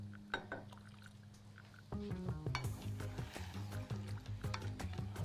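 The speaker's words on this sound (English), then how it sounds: "Let's give it a nice stir." Lemon juice being stirred into a cooking pot for lemon rice, a few quiet clicks followed by a spoon scraping and clanking against the pot in a busy, irregular rhythm.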